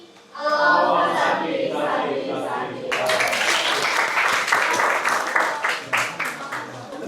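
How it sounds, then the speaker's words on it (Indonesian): Applause from a classroom audience for a student group after its quiz presentation, a burst of dense clapping that starts partway through and continues steadily after a few seconds of talk. "Sekali lagi, tepuk tangan buat kelompok 8 ya."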